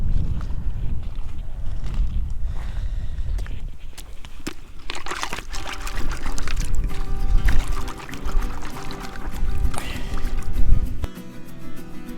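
Water splashes and pours over an agate rock outdoors, a continuous sloshing wash up close with scattered clicks and knocks of stone being handled.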